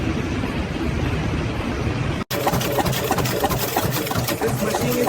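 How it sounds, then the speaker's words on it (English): A factory press cuts thin steel motor laminations with a dense, rapid mechanical chatter over a constant loud hum, briefly cutting out before resuming at the same busy pace. "This machine is cutting thin steel laminations."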